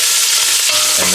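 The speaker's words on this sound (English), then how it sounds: "Mix your onions in." Onions are stirred into bacon or pork belly frying in a pan, giving a loud, continuous close-up sizzle with rough scraping from the stirring.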